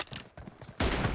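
Gunfire from PUBG Mobile during an M24 sniper team deathmatch: a few soft shots early, then a loud, dense burst of gunfire filling the last part, with no talk.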